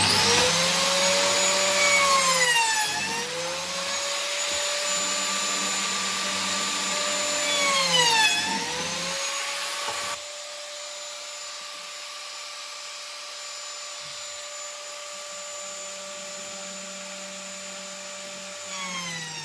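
A biscuit joiner cuts slots in wood. The motor whines loudly and steadily, and its pitch dips and recovers twice as the blade plunges into the workpiece. It then keeps running at a lower, even drone.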